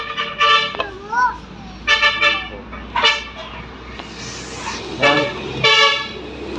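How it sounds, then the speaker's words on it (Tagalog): Car horns toot in short bursts beside a busy roadside highway, several honks spread through the stretch with traffic noise and children's voices in the background. "Maingay kasi dito, sa gilid lang po kasi ng highway"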